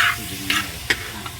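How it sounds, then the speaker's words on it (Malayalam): Chicken pieces fry in oil with a steady low sizzle, with a few brief stirring scrapes and bubbling spurts rising above it at close range. "ചിക്കൻ എണ്ണയിൽ നന്നായി വെന്ത് വരട്ടെ"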